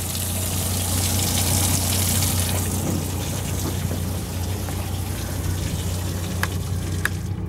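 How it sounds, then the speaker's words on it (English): The live well pumps on a Crevalle 26 Bay boat push water in a loud, steady splashing rush with a low pump hum beneath it, and a couple of sharp ticks come near the end. "You can see they're pumping water."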